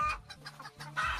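Hens cluck on a farm in a short, close burst of several quick, uneven clucks, fairly loud and with no talking over them.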